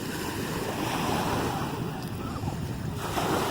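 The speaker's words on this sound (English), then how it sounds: "to be able to sit here on Lake Pend Oreille with these boat-created waves and enjoy how beautiful it is" Boat-created waves lapping on Lake Pend Oreille, a continuous broad wash of water close by, mixed with steady wind buffeting the microphone.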